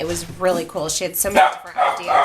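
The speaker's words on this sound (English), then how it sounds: "Oops, sorry about the dog." A dog barks and yips repeatedly indoors, several sharp close barks mixed in with someone talking over them.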